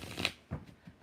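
Tarot cards being shuffled in a few quick riffling bursts, soft and close, with short pauses between them and no talk over them.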